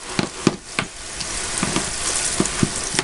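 Soap lather rinsed under running water, a steady close hiss and splash with brief sharper splatters as the suds wash off, loud and with no voices.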